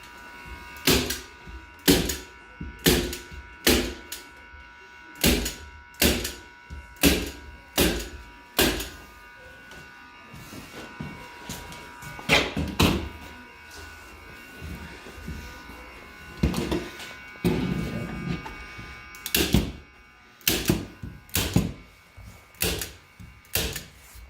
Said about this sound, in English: now I'm going to finish stapling down here